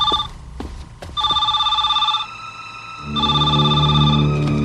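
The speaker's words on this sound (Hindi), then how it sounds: "नहाते वक्त ही फोन आता है।" A telephone bell rings in repeated bursts, loud and close, with a low hum beneath and pauses between rings.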